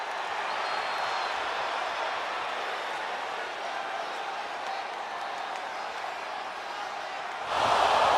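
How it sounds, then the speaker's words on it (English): A virtual arena crowd in the WWE 2K25 wrestling game fills the air with a steady broad murmur and roar, swelling louder near the end, with commentary-like speech mixed in. "And this crowd is buzzing over that."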